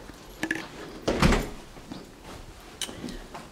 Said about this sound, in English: This is the door that I just entered.